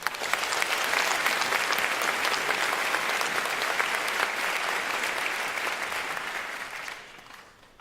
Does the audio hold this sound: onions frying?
no